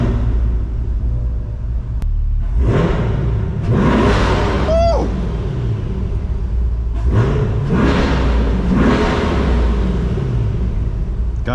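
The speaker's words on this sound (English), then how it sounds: "let's give this thing a little rev test." A new Chevrolet C8 Corvette's engine is revved while it sits with the brake held, giving several loud surging rev bursts that climb and fall over a steady rumbling idle, close by with no talk.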